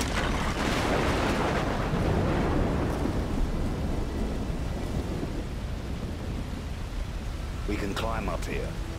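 Rolling thunder in Call of Duty Modern Warfare 3, a loud broadband rumble that swells early and slowly fades, with rain-like hiss throughout and a brief burst of voices near the end.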